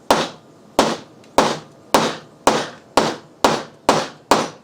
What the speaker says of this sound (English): I just have a hammer, so we're just going to